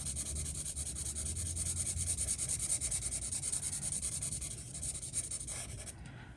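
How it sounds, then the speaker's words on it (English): A marker moves across regular copy paper while coloring in a coloring page, making close, continuous scratchy rubbing strokes in a steady back-and-forth rhythm, with no talking. "let me put some color down. And it's regular Amazon paper, so the marker will spread a little bit"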